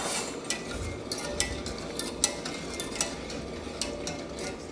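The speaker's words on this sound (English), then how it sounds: "Then add 2/3 cups of sugar. Give it a whisk." A whisk stirring sugar into plant milk in a pot for vegan banana pudding, giving a steady run of light metallic clinks and scrapes at close range with a soft continuous swishing underneath.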